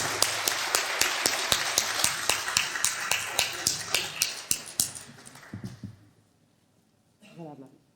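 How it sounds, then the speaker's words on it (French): Applause from a small audience at a ceremony where a women's rights medal of the 6th arrondissement is presented, steady clapping for about six seconds that thins out and stops, followed by brief talk. "Je crois qu'on peut l'applaudir."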